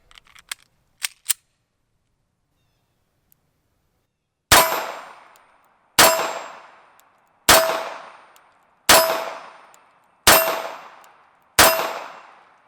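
.380 pistol shots ringing off a steel torso target plate: six loud, sharp clangs spaced about 1.5 seconds apart, each with a bright metallic ring that decays, after a few faint clicks at the start.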